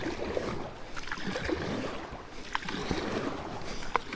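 A kayak is paddled against river current on a late-fall bass fishing trip, with soft water splashes and dips from the paddle over a steady rushing flow, close and moderately quiet.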